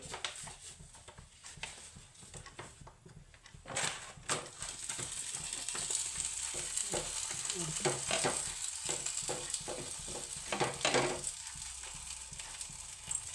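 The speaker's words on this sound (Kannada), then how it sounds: "ಈಗ ಪರೋಟ ನೋಡಿ ರೆಡಿಯಾಗಿದೆ, ಹಾಕಿ ನೋಡ್ತೀನಿ." A vegetable paratha laid onto a hot oiled griddle (holige sheet), giving a steady sizzle and frying crackle throughout with a few sharper taps and scrapes near the middle, close and moderately loud with no talk.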